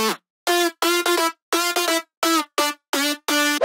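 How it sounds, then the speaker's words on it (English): Four stacked synth lead layers for a future house drop play together as one thick, bright lead, punching out staccato chords in a syncopated pattern with brief gaps, loud and clean with no speech. "All together they sound like this."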